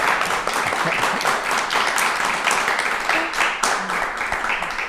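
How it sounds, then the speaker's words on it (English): A small group claps together after a children's poetry reading about a grandparent, a steady patter of hands lasting several seconds with faint voices underneath. "Wonderful, let's clap."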